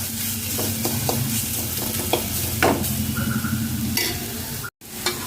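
Grated carrot fries in a pan for carrot rice while a spoon stirs it, giving a steady close sizzle with repeated scraping strokes and clinks throughout, then a brief drop-out near the end.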